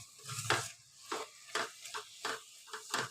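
Tomatoes cooking in oil in a pan over a medium flame are stirred, giving repeated scraping strokes with a soft sizzle underneath, close and fairly quiet.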